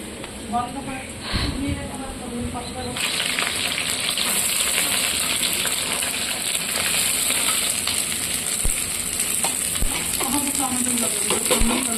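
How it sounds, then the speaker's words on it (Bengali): Onions dropped with five-spice into hot oil in a large wok sizzle steadily after a quieter start, a loud continuous frying hiss with some stirring, while a person talks over it. "তেলের ওপর 5 ফোড়ন দিয়ে পেঁয়াজগুলো দিয়ে দিলাম"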